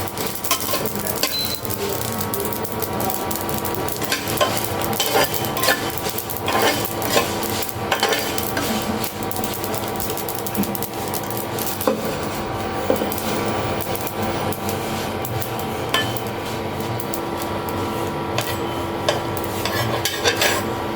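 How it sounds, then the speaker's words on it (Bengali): Dried chilies and panch phoron spices fry in oil in a pan, giving a steady crackling sizzle broken by frequent clinks and scrapes from stirring, close and continuous throughout. "মরিচ আর পাঁচফোড়নগুলো আগে ভেজে নেবো, কারণ এগুলো ভাজতে একটু সময় লাগে।"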